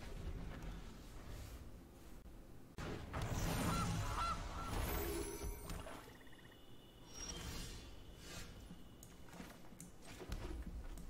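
A cartoonish goose honk sound effect from the card game MTG Arena, sounding a few times amid busy game effects and background noise, with no talking over it.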